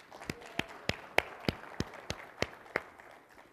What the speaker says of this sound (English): Let's give Whit a round of applause.